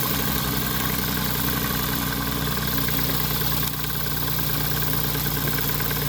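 A small 1980s model steam engine runs steadily and continuously, a constant mechanical chugging hum with a low drone, close and fairly loud throughout.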